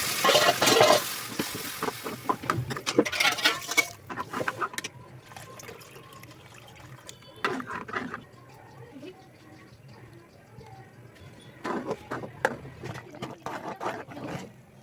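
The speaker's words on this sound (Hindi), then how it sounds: "साथ में इसको छौंक लगेगा जीरे का। तो तेल में चढ़ा चुकी हूँ" Cumin seeds sizzle and spatter in hot oil, with intermittent stirring and a voice speaking over the cooking.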